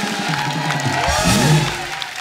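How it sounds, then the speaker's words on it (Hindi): A studio audience on a comedy talk show applauds loudly for Hrithik Roshan. The clapping is dense and sustained, with crowd cheering mixed in from start to finish. "एक बार जोरदार तालियां मिस्टर ऋतिक रोशन के लिए।"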